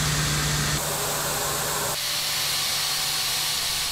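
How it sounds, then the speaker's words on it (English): Broadband hissing spray from an autonomous, driverless agricultural spray rig with a fan and drive shaft, working on a farm; a steady, loud wash with a low hum underneath, continuous throughout. "this spray rig doesn't need a tractor or a driver"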